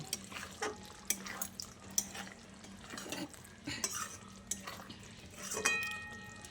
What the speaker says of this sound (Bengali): তারপর ভালো করে মিশিয়ে নিচ্ছি।